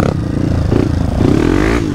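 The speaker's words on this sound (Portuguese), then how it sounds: "A moto tá boa." A trail motorcycle with a wider Michelin 110 rear tire revs loudly and close by on a group dirt trail ride. The engine note rises and climbs in pitch, with some clattering mixed in.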